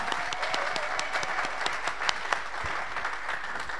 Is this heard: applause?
yes